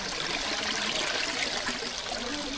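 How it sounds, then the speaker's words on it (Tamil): A small forest stream runs steadily along a trekking trail, a continuous close trickle and rush of water with no break and no voices. "இங்கே சின்ன ஓடை ஓடுது."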